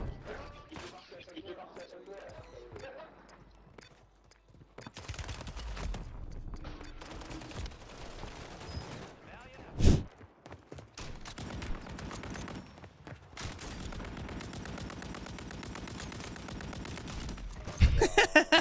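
Gunshots in Call of Duty Warzone on Rebirth Island, including Kar98k rifle fire: sporadic sharp cracks and bursts, one loud shot standing out midway, mixed with game noise and a player talking.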